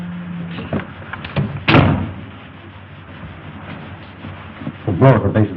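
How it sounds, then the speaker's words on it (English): A door closes with a solid thump in an old film drama, set among scattered speech and a second knock-like burst near the end, fairly close and moderately loud. "Close the door."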